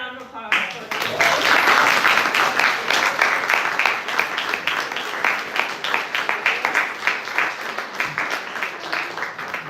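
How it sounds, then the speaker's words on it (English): Audience applause at a lecture, loud and dense from the start and holding steady for nearly ten seconds, with claps easing slightly toward the end and a few voices mixed in. "One more round of applause."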